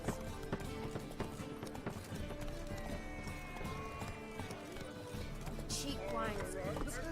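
A horse gallops in The Witcher 3 with a steady, rapid clip-clop of hooves close by, under continuous background music, ending in a short burst of higher sound.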